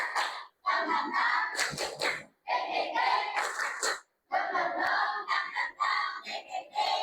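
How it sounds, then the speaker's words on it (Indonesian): An audience performs the tepuk semangat chant, with loud bursts of shouted voices and sharp rhythmic claps in several phrases separated by short pauses. "Tepuk tangan dulu dong semuanya dulu."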